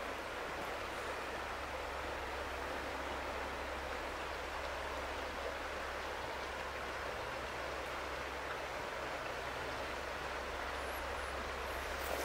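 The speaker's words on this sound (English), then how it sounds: "stand here for a second so you can just listen to the water run" The Green River at Flaming Geyser State Park in Washington runs over rocks with a soft, continuous rushing murmur, steady and fairly distant, with no voices heard.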